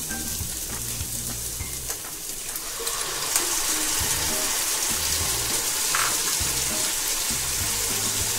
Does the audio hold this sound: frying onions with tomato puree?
yes